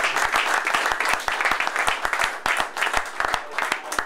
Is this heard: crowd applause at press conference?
yes